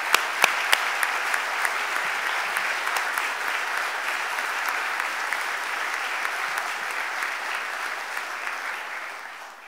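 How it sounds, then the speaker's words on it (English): Indoor audience at a city budget address applauding for police recruit officers, sustained loud clapping that starts with a few sharp claps and slowly fades toward the end. "Give them a huge round of applause."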